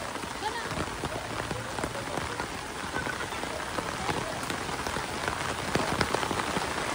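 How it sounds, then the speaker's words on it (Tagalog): Heavy rain falling on a farm at night during flooding, a dense, steady patter of drops close by, with people talking intermittently beneath it. "Nagaulan."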